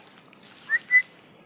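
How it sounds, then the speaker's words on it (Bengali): A pet myna bird gives two short, clear whistled notes in quick succession, close by and moderately loud, with a quiet background and no talking. "ময়না আগের মতনই কথা বলে"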